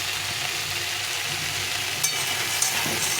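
Tomatoes and vegetables frying in a pan for a fish curry, a dense, steady hiss of sizzling oil throughout with a couple of faint utensil clicks, close and fairly loud with no talking.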